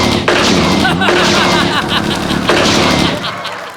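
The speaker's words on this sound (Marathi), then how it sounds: "नाही सर बंदुकीच्या गोळ्यांचे आवाज आहेत" Gunshots fired as a salute during a Marathi stage comedy show: a few loud, sharp bangs with a dense, crackling burst, layered over constant crowd noise and voices.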